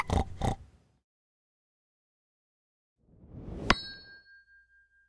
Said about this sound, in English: It's our pig friend!